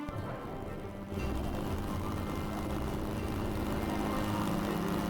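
Propeller plane engine in a video game, droning steadily and growing louder after a second, with rough low rumbling that suits a failing, backfiring engine.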